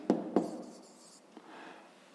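A pen writes a few short numbers during a fifth-grade maths exercise. Two quick taps are followed by a light scratch and a brief stroke, all close and soft, with no voices.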